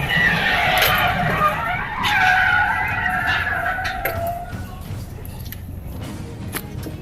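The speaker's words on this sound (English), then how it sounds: "the car crashes straight into the roadside" A car traveling at high speed on a hilly road skids, its tires squealing loudly over engine roar for several seconds, then crashes into the roadside with sharp impacts, and the noise fades into rougher rumbling.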